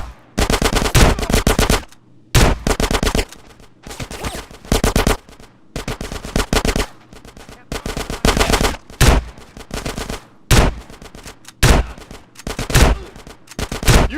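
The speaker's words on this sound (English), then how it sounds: "Get some suppressing fire in there!" Automatic gunfire in a GTA shootout, loud close bursts of rapid fire lasting a second or two each, separated by short pauses, repeating throughout.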